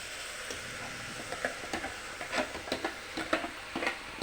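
Masala frying in a pan with a steady low sizzle while a spoon stirs it, producing a run of irregular scraping taps that grow busier toward the end.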